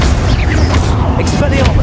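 Confringo and Bombarda spell blasts from the video game Hogwarts Legacy, a steady run of dense booming bursts and pops with no pause across the clip.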